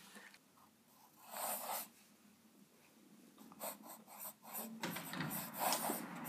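A Sheaffer calligraphy fountain pen nib scratching across paper, with soft intermittent strokes and faint rubbing, quiet and close, with no talking.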